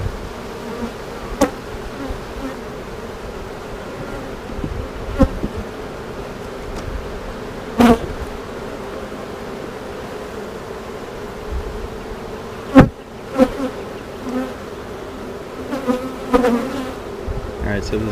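Honey bees buzz in a dense, continuous drone around an open hive during an inspection, with occasional sharp knocks and clicks of frames being handled.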